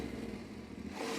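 Yamaha Tenere 700 adventure motorcycle engine picking up throttle while turning, a steady close engine drone that swells slightly louder toward the end, with no talking.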